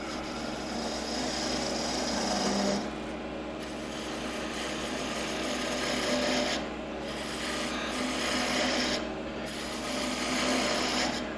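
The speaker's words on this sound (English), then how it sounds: "I'm going to go to a little bigger tool. It's a bigger spindle gouge." A spindle gouge cutting a spinning wooden workpiece on a lathe while turning a table, a continuous loud rasping shear over the steady machine hum, pausing briefly between passes.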